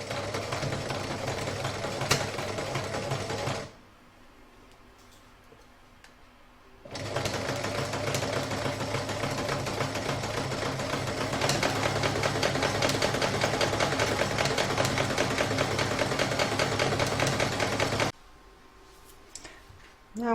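An embroidery sewing machine stitches fleece bag pieces onto fur in an in-the-hoop crazy patch bag, a fast steady mechanical whir and clatter running in two long bursts separated by a quiet pause.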